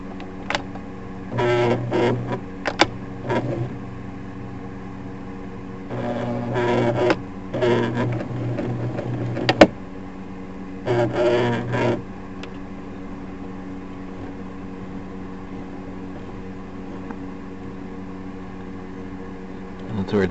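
An old sewing machine with a broken gear runs in short mechanical bursts, whirring and catching where the teeth bind, with quiet pauses between the runs and one sharp knock partway through.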